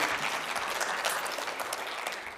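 A conference audience applauds a speaker on urban circular bioeconomy, sustained broadband clapping from a crowd that holds steady and then thins slightly toward the end.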